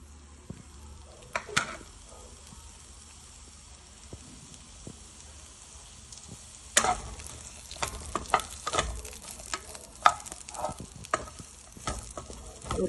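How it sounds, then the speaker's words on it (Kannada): Chopped onion and capsicum fry in a spoonful of ghee over medium flame, a soft, steady sizzle punctuated by spatula scrapes and clicks that grow busier partway through. "ಈ ಈರುಳ್ಳಿ ಕ್ಯಾಪ್ಸಿಕಮ್ ಹುರ್ಕೊಳ್ಳೋಕ್ಕೆ 1 ಸ್ಪೂನ್ ತುಪ್ಪ ಹಾಕೊಂಡಿದ್ದೀನಿ."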